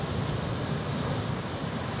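Surf waves crash on a storm beach in a continuous, loud roar of broken water mixed with buffeting wind against the microphone, with no distinct individual breakers.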